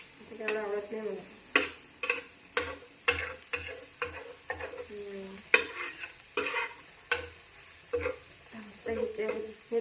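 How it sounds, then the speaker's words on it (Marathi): Chutney ingredients are roasted in oil in a home kitchen pan, with a spoon scraping and stirring in repeated strokes over a soft, steady sizzle, close and clear. "हे थोडं जास्त भाजू द्यावं लागते,"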